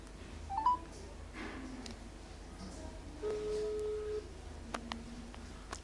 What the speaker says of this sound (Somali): marka waa wacaya hadda